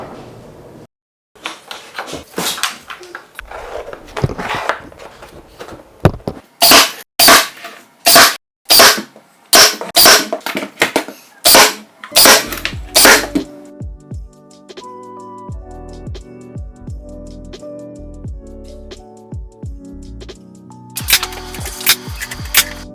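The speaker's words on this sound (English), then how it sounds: "now I'm just gonna go ahead and nail them in" Sharp, loud hammer strikes fasten quarter round trim in a living room makeover, coming in quick irregular bursts with pauses, then a final flurry of taps after a quieter stretch.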